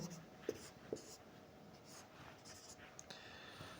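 Pen writing by hand on paper while working through a math problem, faint soft scratching strokes with a couple of small taps early on, quiet and close.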